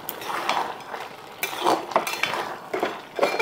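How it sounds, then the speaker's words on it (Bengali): A utensil stirs Bengali elephant foot yam curry in a pan, scraping and clinking against the metal in irregular close strokes. "আবারও ভালো করে নাড়িয়ে নিচ্ছি।"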